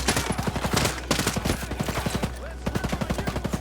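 Rapid automatic fire from a G36E assault rifle in the video game Ghost Recon Breakpoint comes in dense bursts of sharp shots. The bursts are close and loud and run almost continuously, with a brief pause midway.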